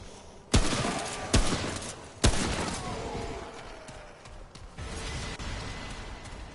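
Three sharp, loud rifle shots crack out at irregular intervals in the video game Remnant: From the Ashes, each trailing off into a ringing echo, with a faint game ambience between them.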